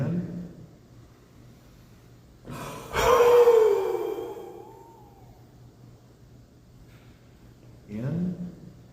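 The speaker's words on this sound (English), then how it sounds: "So you're going to breathe in fairly quickly." Quick, deep breaths during a qi gong exercise: a loud rushing inhale and exhale near the mic, a quieter tail, then another sharp breath a few seconds later.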